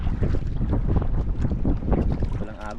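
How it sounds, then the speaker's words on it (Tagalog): Moderate wind at sea around a small fishing boat, a constant low rumble of gusts buffeting the microphone mixed with water movement, close and loud throughout. "Medyo mahangin-hangin pero hindi naman gano'ng kalakasan mga lods."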